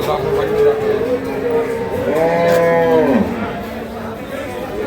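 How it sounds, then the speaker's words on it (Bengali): Dairy cows at a cattle market in Kaharol, Dinajpur, giving a long, loud moo in the middle of a steady murmur of the crowd, with another lower call just before it. "আপনারা দেখছেন এখানে যে দুধের গাভী গরুগুলো প্রায় বিক্রয় করা হচ্ছে"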